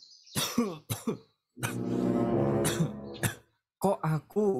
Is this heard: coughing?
yes